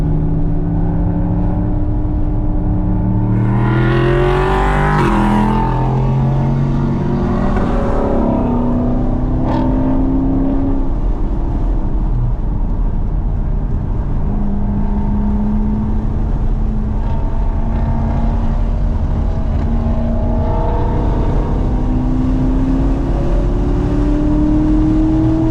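A race car on the Burt Brothers Motorpark East Track, engine revving hard and winding up through gears as it accelerates out of a corner, loud and close with a sustained whine, then settling into a steady drone.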